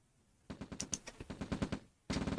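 Rifle infantry fire in the strategy game OpenRA Red Alert: a rapid, evenly spaced string of crisp shots, about a dozen in quick succession, then a short pause and another burst.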